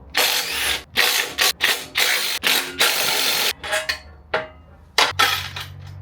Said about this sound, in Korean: 볼트 4개를 풀어주셔야 돼요 5mm 육각 비트를 사용해 볼게요